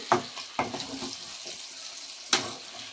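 Chicken with fenugreek leaves being stirred in a pan: a few sharp spatula clacks and scrapes, spaced irregularly, over a faint, steady frying hiss with no talking.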